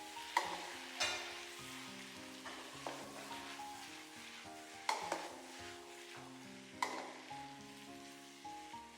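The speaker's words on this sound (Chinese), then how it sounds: "大火翻炒，让茄子四季豆混合均匀。" Eggplant and green beans stir-fried in sauce over high heat in a wok, with repeated scraping and tossing strokes over a steady close sizzle and clinking music-like tones; no talking.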